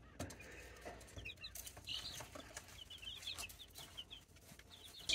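Backyard chickens on an off-grid homestead cluck softly in short scattered calls, with close rustling and handling noise underneath.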